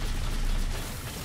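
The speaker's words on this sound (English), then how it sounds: "I'm just going to keep shooting the particle cannon." Particle cannon fire in the Halo 4 video game, a dense, loud mechanical burst that stays steady for just over a second with no voices.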